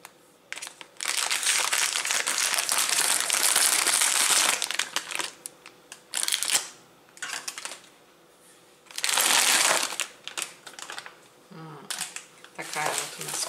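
Plastic wrappers of orange-flavoured Konti Super candies being opened, bursts of loud close crinkling and crumpling in several separate stretches, with brief quieter pauses between.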